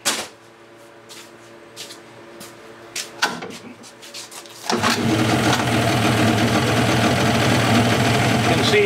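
A 1980s Suzuki 15 hp two-stroke outboard, scrap-heap condition, fires up after a few quiet knocks and then runs loud and steady with a dense buzzing roar.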